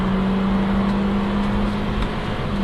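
A 2014 Toyota Corolla accelerating hard from a standstill at high altitude, its engine droning loudly with a steady low tone and continuous road roar throughout, no voices.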